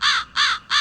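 A crow caws three times in a steady, even rhythm from a WAV sample file, each call loud, harsh and close, with no talk.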